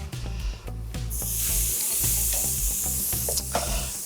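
Food sizzling on a hot oiled grill, a steady loud hiss with small crackles and scraping taps close by, no talking.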